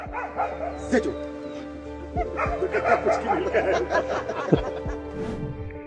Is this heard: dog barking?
yes